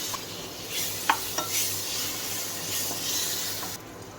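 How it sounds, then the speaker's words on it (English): Roughly chopped tomato sizzles steadily in a frying pan with chili powder, with a few sharp scrapes and clinks of stirring early on and a continuous frying hiss throughout. "Let me add the tomato now. It's a roughly chopped tomato."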